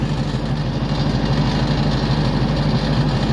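A Ford 8N tractor engine idles with a steady, low, throbbing rumble, close by and continuous, with no voices over it.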